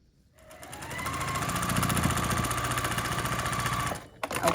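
A sewing machine stitches a quilt block in one continuous run of a few seconds, its rapid needle chatter and motor hum close and steady, ending with a clunk as it stops.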